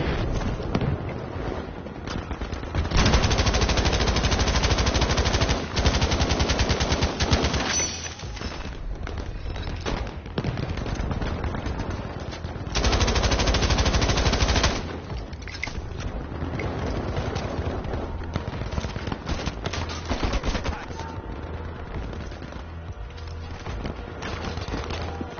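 Sustained machine gun fire from a mounted MG in the World War II shooter Battlefield 5, coming in loud, dense bursts of rapid shots with quieter stretches of distant battle noise between them.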